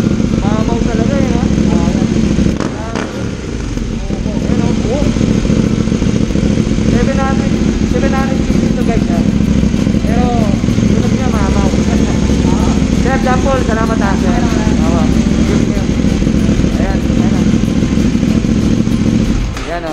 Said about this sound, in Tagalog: Grabe yung sound check niya. 790 Dok. Ang bigat, ang tindi. Twin cylinder lang siya.